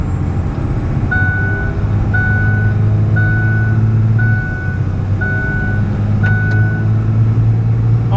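A Cummins-powered Ford F350 truck pulls hard on a highway, its engine droning loud and close and briefly dipping mid-pull as it shifts gears, while a steady electronic chime beeps roughly once a second.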